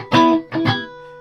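An electric guitar played through a Victory Sheriff amp with no reverb and all pedals off rings out in two loud, gritty chord strums, the second fading into a short sustain.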